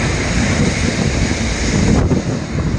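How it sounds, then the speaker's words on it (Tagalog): Strong wind at a beach buffets the microphone in a continuous loud roar, with a faint wash of surf beneath it. "Malakas yung hangin."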